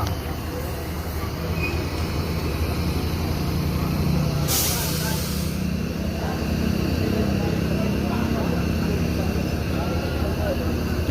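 A bus arrives, with a loud hiss of its air brakes releasing about midway through over a steady engine rumble and background noise.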